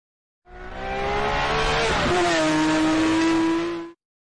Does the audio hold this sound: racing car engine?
yes